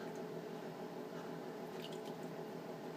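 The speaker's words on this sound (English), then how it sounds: "I need more water though, so a little more water." A little more water is worked into a bar soap lather, giving a steady wet squishing and sloshing with faint drips, close and continuous without talk.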